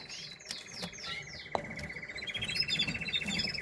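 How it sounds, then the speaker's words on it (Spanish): Small cage birds, a black yellow mosaic male and a black white variegated hen, at a nest of five chicks: a rapid series of thin, high chirps and trills repeating close by, with faint background rustling. "Aquí hay una nidada de 5, en el que el macho es un negro amarillo mosaico y la hembra es una negra blanca"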